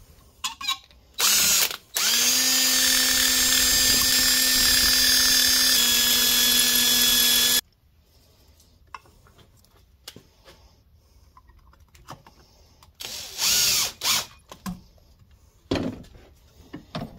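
A power drill whirs loudly for several seconds at a steady pitch, driving deck or drywall screws, then stops, followed by quieter clicks, rattles and short bursts of handling noise.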